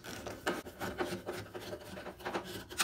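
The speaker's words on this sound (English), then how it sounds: "tighten the screws." Screws being driven tight on the drain pump of an LG washing machine, a repeated gritty rasping and turning sound in short rhythmic strokes, close and quiet with no talking.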